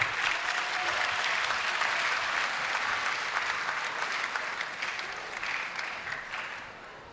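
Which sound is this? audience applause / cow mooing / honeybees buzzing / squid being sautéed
audience applause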